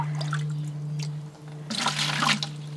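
Water runs into a 5-gallon bucket of comfrey tea, a steady low hum with splashing and trickling that grows busier toward the end.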